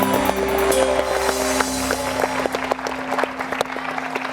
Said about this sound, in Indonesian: Tepuk tangan dong buat ibunya.